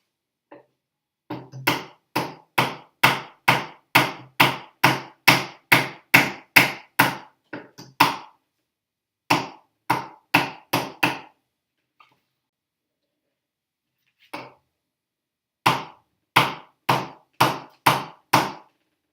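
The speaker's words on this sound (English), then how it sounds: "what I'm going to use is a piece of wood, and then a hammer," A hammer taps on a block of wood in rapid, evenly spaced strikes, pausing briefly, then resuming with another quick run of knocks.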